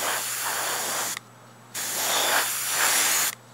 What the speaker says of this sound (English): And we're just putting on a light coat, just so we get even color.